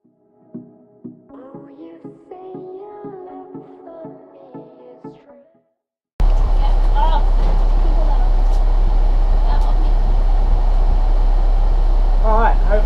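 A bus engine drones loud and constant in the second half, a dense low rumble with rattles, following quieter music; it continues during a Dometic Seitz Mini Heki Plus roof hatch installation.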